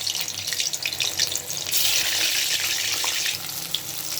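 Paneer pieces frying in soybean oil for a Kashmiri paneer dish, a steady hiss of sizzling that swells louder partway through as more pieces go into the hot oil, heard alone without talk.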